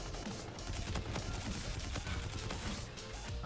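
Dense, rapid gunfire from the video game Call of Duty: Infinite Warfare rattles on without a break as a loud burst of automatic fire, with overlapping shots and impacts.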